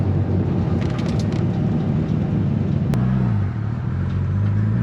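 A vintage Porsche 911 Targa engine, pulled from a scrapyard and being rebuilt, runs roughly at idle with a steady low rumble, close and continuous, briefly dipping before settling back.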